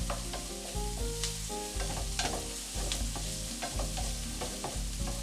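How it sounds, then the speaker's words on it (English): Mushrooms and onions sauté in a hot pan for a sausage breakfast burrito, giving a steady sizzle broken by the repeated scrape and clatter of stirring, with no talking. "my mushrooms and my onions are nice and sauteed"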